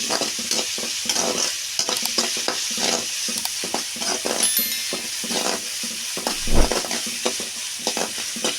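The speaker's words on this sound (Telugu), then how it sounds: "ఇది వేసుకున్న తర్వాత పచ్చి వాసన పోయేంత వరకు బాగా వేపుకోవాలండి." Ginger garlic paste fries in a pan for gongura mettala kura, with a continuous close sizzle broken by repeated rhythmic scrapes and clatters of a spoon stirring, and no voices.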